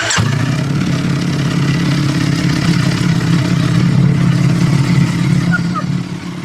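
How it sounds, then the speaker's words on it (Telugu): A Ducati V4S motorcycle on its bone-stock exhaust idles loud and near, a deep, even engine rumble that holds steady before easing off slightly at the end. "Now listen, Ducati V4S ASMR. Only stock, bone stock."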